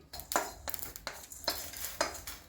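Cumin seeds and black pepper dry-roasting in a pan are stirred with a metal spoon, giving five sharp scraping clinks in a quick, uneven rhythm against a quiet background.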